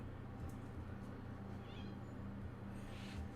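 A house cat meows faintly once or twice against a low indoor hum, with quiet background noise.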